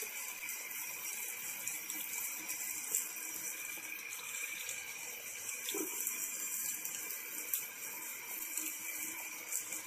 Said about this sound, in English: So we're going to add another cup of water,